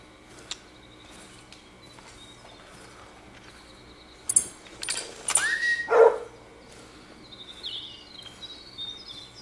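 Hunting dog in theHunter: Call of the Wild during pheasant hunting at Salzwiesen Park, a few sharp, close barks and yelps around the middle, with faint bird calls and insects in a quiet outdoor ambience.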